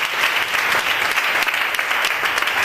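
Church congregation applauding together, a dense, steady wash of clapping that stays loud and even throughout, with no voices rising above it.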